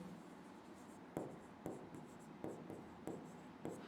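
Pen on paper while working an accounting revaluation problem, with a soft continuous scratch broken by six evenly spaced stroke taps. It sounds quiet and close with no talking.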